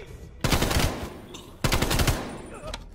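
Two bursts of AK-74U automatic fire from the Call of Duty Cold War campaign, each loud, close and lasting about a second, with a short gap between them.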